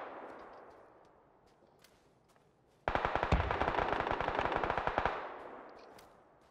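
Automatic gunfire in the video game PUBG, one sustained burst of rapid, loud shots about two seconds long that rises sharply out of quieter game ambience and then cuts off, no talking.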